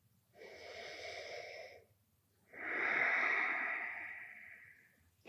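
A person at rest during a yoga session breathes in deeply and then lets out a long, slow breath, two close and clearly audible airy breaths separated by a short pause.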